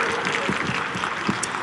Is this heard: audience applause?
yes